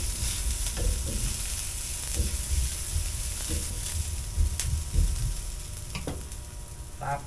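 Garlic and onion sautéing in a pan for chicken afritada, a steady low sizzle with occasional stirring scrapes and soft clinks, moderately close and without talk.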